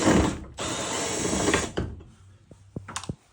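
A small socket ratchet working screws on a Daikin VRV ceiling cassette air conditioner, two close bursts of rapid clicking followed by a few sharp ticks and taps.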